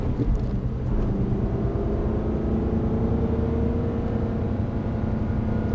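Aston Martin accelerating on a race track, a loud, steady engine roar with rising harmonics heard from inside the car, continuous throughout.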